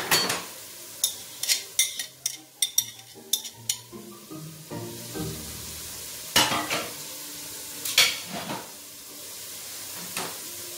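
Chopped fennel and red Florina pepper sautéing in a pan, with a quiet sizzle broken by frequent sharp clinks and scrapes of a utensil against the pan, busier at first and then sparser.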